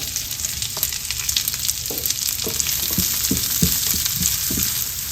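Onions sauté in rendered pork belly fat for Pampanga sisig, a loud, close, continuous frying sizzle with spattering crackle and a few soft stirring knocks.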